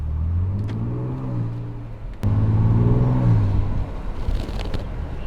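A 2024 Ford Ranger Raptor engine and exhaust in off-road exhaust mode revs up loudly twice, the second rev sharper and fuller before settling back to a steady close rumble.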